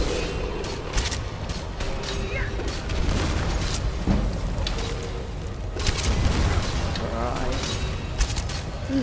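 Gunfire and heavy booms erupt in a Skyrim fight against an enemy, loud, repeated blasts in uneven bursts layered over busy background noise.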